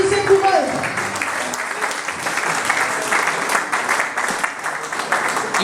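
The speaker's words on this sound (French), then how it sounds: "Come on, clap your hands for them." A church congregation at a worship service claps their hands together, a sustained, moderately loud patter of many hands with voices mixed in underneath.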